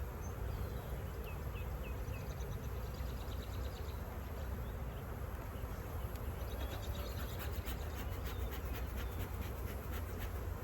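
Honeybees at an opened hive frame with brood give off a faint, steady buzzing hum that continues evenly throughout, with no voices.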